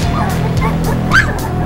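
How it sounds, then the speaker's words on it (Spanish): Young puppies give a few short, high yips and barks close by, with a sharp squeaky yelp near the end, over a steady low background hum. "Mira cómo ladran."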